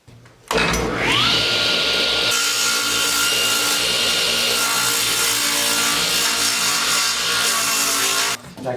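A power saw cuts through old barn wood boards and hits nails along the way, a loud, sustained close-up ripping drone that lasts about eight seconds with no talk.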